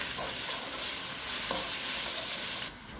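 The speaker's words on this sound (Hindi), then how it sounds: "इसी ऑयल में अब 1 चम्मच कूटा हुआ लहसुन डालेंगे, कुछ सेकंड के लिए इसे फ्राई करेंगे।" Crushed garlic frying in hot oil for a spaghetti and meatballs sauce, a steady close sizzle that holds evenly for a few seconds before dropping off abruptly near the end.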